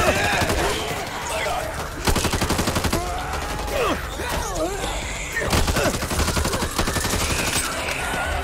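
Gunfire cutting down zombies in Back 4 Blood co-op: bursts of rapid, loud automatic shots come in several volleys, with zombie growls and shrieks in between and voices talking over the action.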